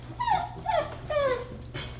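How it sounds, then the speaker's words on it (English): A puppy whines inside a crate with the door shut, giving three drawn-out, rising-then-falling whimpers close by over a low steady hum. "He's whining because he's never been in a crate with the door shut for longer than 5 seconds."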